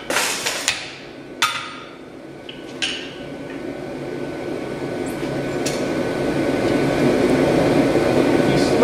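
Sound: power striking hammer punching a hole through square steel

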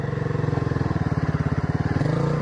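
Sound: motorcycle engine

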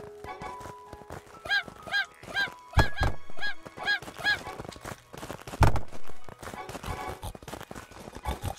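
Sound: chickens clucking in the video game Craftopia

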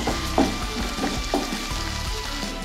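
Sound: onions and capsicum frying in a pan

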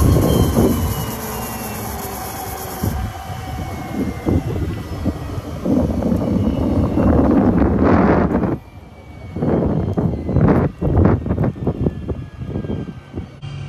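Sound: Cirrus SF-50 Vision jet engine running on starter

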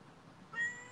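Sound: cat meowing

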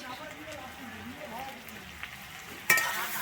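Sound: chopped onion, ginger and garlic frying in pan

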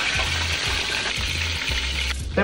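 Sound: seasoned fish frying in oil

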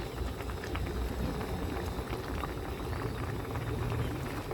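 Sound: boiling tilapia soup with young tamarind leaves

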